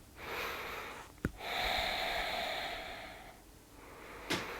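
Slow, deep breaths during a yoga session: a long airy inhale and exhale, close and soft, punctuated by a couple of brief sharp sniffs.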